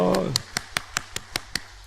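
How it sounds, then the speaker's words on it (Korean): Church congregation clapping during Sunday worship: after a voice fades, a steady train of sharp, evenly spaced claps in unison, about five per second, fairly loud and close. "하나님께 영광의 박수 올려드립시다."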